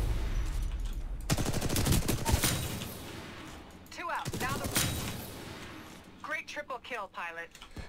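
Bursts of rapid video game gunfire ring out loud and close, a sustained volley of shots followed by shorter separate bursts, while a player talks over and between them.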